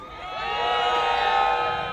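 A joyous crowd in Windsor cheers at news of a royal baby boy, a sustained swell of voices and whoops that builds and holds for a couple of seconds.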